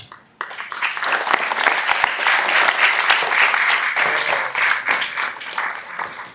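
A classroom of students claps together after a quick onset, dense steady applause that swells and holds for several seconds before tapering slightly, fairly close and loud.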